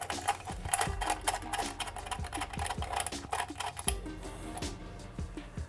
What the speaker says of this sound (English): Grabbing our 5mm hex tool to go ahead and snug that up.